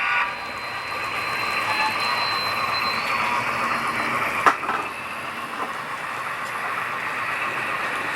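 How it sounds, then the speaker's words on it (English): A model train rolls steadily along the Great Northern DownUnder layout with a continuous rumbling rail hum, plus one sharp click midway. "The train on its way from Billings to Havre"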